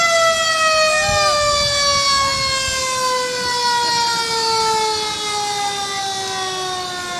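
A fire truck siren wails loudly in a slowly falling tone during an evening parade of lights, with faint crowd noise and brief voices beneath it.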